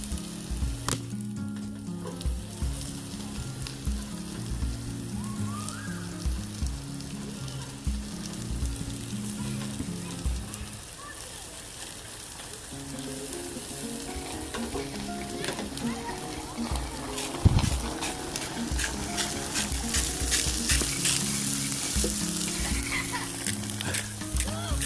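Food sizzling and frying in a non-stick pan at a campsite, a steady crackling hiss that continues throughout, with occasional stirring scrapes and someone talking over it.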